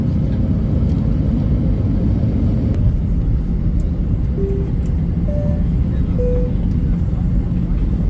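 An airliner cabin just after touchdown in Zurich fills with a steady, loud low roar of engines and rolling, with a few soft tonal chimes and faint voices underneath.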